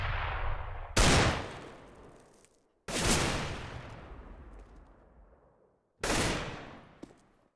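Pistol fire in Counter-Strike: Global Offensive during a competitive match on the Overpass map, three sharp loud shots spaced a couple of seconds apart, each ringing out with a long decaying tail.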